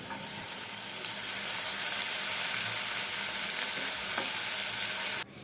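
Ginger paste and garlic paste frying in a pan while cooking a Bengali hilsa fish curry with eggplant and taro, a steady loud sizzle with light stirring that holds for about five seconds, then abruptly drops lower near the end.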